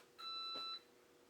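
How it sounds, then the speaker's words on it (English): A vintage computer terminal gives a single steady boot beep lasting about half a second when powered on, faint against quiet background hum. "So we got our boot beep."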